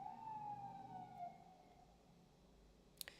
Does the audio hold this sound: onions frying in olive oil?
no